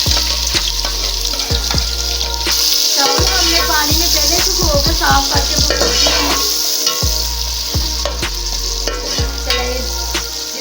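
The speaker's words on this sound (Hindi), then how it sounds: "घी हमने चूल्हे ऊपर रख दिए हैं। अब हम इसमें प्याज डालते हैं।" Onions sizzle and fry in hot ghee for a vegetable pulao, with a steady loud crackle, repeated clinks and scrapes from stirring, and someone talking over it.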